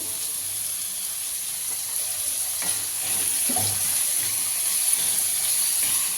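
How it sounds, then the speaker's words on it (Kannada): Eggplant and capsicum frying in oil in a pan, a continuous close sizzle and hiss with occasional stirring clatter, steady throughout and no voices. "ಬದನೆಕಾಯಿ ಮತ್ತು ಕ್ಯಾಪ್ಸಿಕಮ್ಮು ಚೆನ್ನಾಗಿ ಎಣ್ಣೆಲಿ ಬಾಡಬೇಕು ಅಲ್ಲಿವರೆಗೂ ಫ್ರೈ ಮಾಡಬೇಕು"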